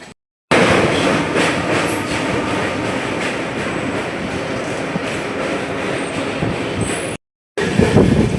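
The Tirumala Express pulls out of Tuni railway station, a loud continuous rumble of wheels and carriages with rhythmic clatter, heard close from on board and cut briefly near the end.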